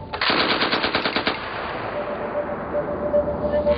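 A machine gun mounted on a combat robot fires a rapid burst of loud shots lasting about a second, followed by a lingering echoing rumble that fades slowly.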